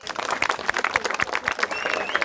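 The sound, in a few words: audience applause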